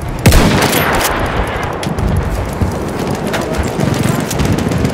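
Enemy machine gun fire in a war video game, a steady rattle of rapid shots mixed with battle noise and clopping hooves, with voices calling out.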